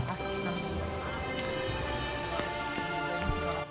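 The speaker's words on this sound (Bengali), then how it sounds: "বর্ষাকাল হওয়ায় বৃষ্টি আসা যাওয়ার মধ্যেই ছিল" Steady monsoon rain falls in a continuous broadband hiss with scattered drop taps on Chandranath Hill, unbroken from start to finish.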